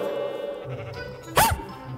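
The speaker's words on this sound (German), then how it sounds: "Das ist auf jeden Fall irgendein Hundegeräusch gewesen" A short bleating, dog-like creature cry from the Minecraft video game, one brief loud call rising out of quieter game ambience near the end.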